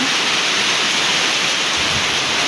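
Heavy rain falling in a sudden downpour during a thunderstorm, a dense, loud, unbroken hiss close by, with no voices.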